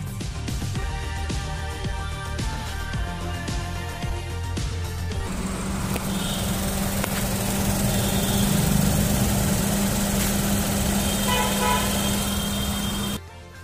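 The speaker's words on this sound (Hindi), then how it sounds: "तो चलिए अब आपको इसके इंजन की साउंड सुना देते हैं।" Idling three-cylinder engine of a Maruti Suzuki Celerio ZXi AMT hums steadily, with a low engine drone that shifts midway into a steadier, brighter tone before cutting off near the end.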